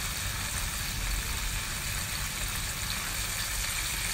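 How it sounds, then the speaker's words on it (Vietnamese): Tay Ninh mountain snails stir-fried in a pan give a dense, even sizzle with a hissing, bubbling wash, loud and close and steady throughout, no voices. "Mình xào một tí là cho nó hơi cháy lại một tí."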